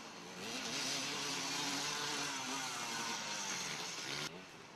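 A vintage KTM motorcycle from the late 1970s or early 1980s, ridden at a timed event, roars loud and steady for about four seconds, its engine noise filling the air before dropping off abruptly as it passes.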